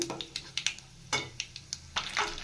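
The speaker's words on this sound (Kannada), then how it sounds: "ಕರಿಬೇವು ಹಾಕ್ತಾಯಿದ್ದೀನಿ. ಕಡಲೆಬೇಳೆ ಸೇರಿಸ್ತಾ ಇದ್ದೀನಿ. ಫ್ರೈ ಮಾಡ್ಕோಬೇಕು." Chana dal and curry leaves fry in oil over a low flame, giving a soft sizzle broken by quick spoon scrapes and clinks against the pan, fairly quiet and close, with no voices.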